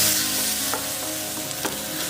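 Chopped onion fries in a pan with a continuous moderate sizzle, and a couple of sharp spatula scrapes stand out near the end; no one speaks.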